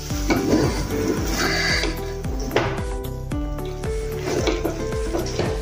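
A semolina barfi mixture is stirred in a kadai, making repeated scraping and sticky stirring strokes in a steady rhythm with faint sizzling underneath, close and clear, with no talk.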